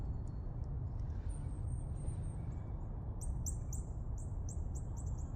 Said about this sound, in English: Birds sound pretty happy out here today.